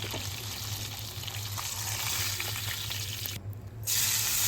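Pangas fish frying in a pan of oil, then chopped onions going into the same hot oil, giving a steady close sizzle with a brief drop and a louder burst as they hit the oil.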